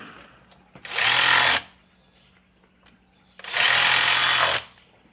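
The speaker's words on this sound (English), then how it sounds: "cordless drill with minimal impact." A cordless impact drill driving a screw while mounting a replacement condenser fan motor bracket on a Honda Stream RN6 whirs loudly in two sustained bursts, each about a second long, separated by quiet.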